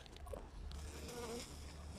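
Faint, soft buzzing of honeybees in a winter hive hums under a quiet, muffled background, steady and close.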